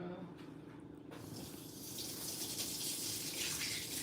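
Tap water runs in a steady, hissing stream at a repair bench, rinsing parts, and the flow grows fuller and louder after the first second.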